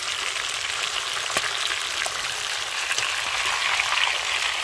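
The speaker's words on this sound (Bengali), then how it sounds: "আমাদের কড়কড়া করে ভাজা হয়ে গেছে" Climbing perch (koi fish) fry crisp in hot oil, a continuous close sizzle and crackle with scattered sharp pops, steady and uninterrupted throughout.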